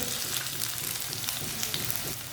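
Finely chopped onion fries beside okra in a pan for egg bhindi, giving a continuous close sizzle and hiss with light stirring and no voices.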